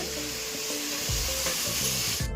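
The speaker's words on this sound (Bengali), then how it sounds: "এদিকে মশলা কষছে" Spice paste of poppy seeds, nuts, tomato and a little mustard fries in a pan, giving a loud, constant sizzle with occasional stirring scrapes and knocks, close up and without talk.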